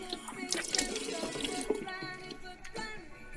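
Tap water runs into a bathroom sink while someone rinses their mouth, a steady close splashing stream with small gurgles and spits over a few seconds.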